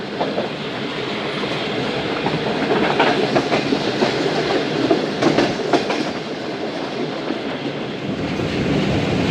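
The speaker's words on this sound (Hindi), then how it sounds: "छः बजकर 1 मिनट पर दोस्तों ट्रेन पहुंच रही है चीचावतनी" Train pulling into Chichawatni station, a steady loud rumble of rail cars with rhythmic clickety-clack wheel clatter and wind buffeting, continuous throughout with no talk.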